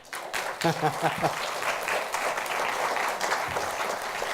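An audience at a talk claps in a room, steady moderate applause that begins after a brief voice at the start and continues evenly to the end.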